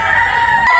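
A WDY sweater gamefowl rooster from WDY Game Farm gives a single brief, loud, close crow with strong harmonic tone, heard alone without talk.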